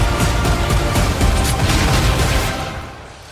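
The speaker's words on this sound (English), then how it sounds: "Is that a Gatling gun?" A Gatling gun in Destiny 2 fires a loud, dense stream of rapid shots with heavy low rumble, a steady roar for about two and a half seconds before fading out.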